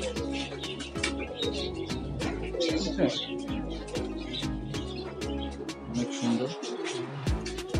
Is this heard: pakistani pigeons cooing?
yes